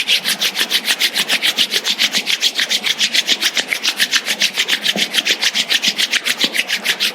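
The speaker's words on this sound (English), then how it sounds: "let's generate some energy between our hands by rubbing our palms against each other" Palms rubbed briskly against each other during a meditation session, a close, even, rhythmic swishing of skin on skin repeating about four times a second, alone and without talk.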